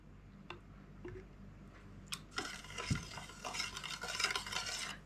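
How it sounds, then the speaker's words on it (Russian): Garlic-pickling brine with vinegar essence is stirred in a pot, with a few soft clinks at first and then a steady swishing and scraping that grows busier. "Все размешиваем и ставим на огонь кипятиться."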